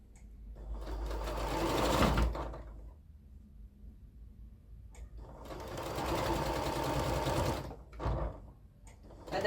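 A sewing machine stitches a pieced checkered border for a jelly roll quilt in two long steady runs, loud and close, separated by a quiet pause with faint handling sounds.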